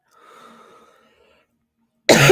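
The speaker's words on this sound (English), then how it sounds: "I don't mean to be coughing all up in the mic." A single loud, harsh cough into a close microphone bursts in at the end, after faint murmuring and a brief silence.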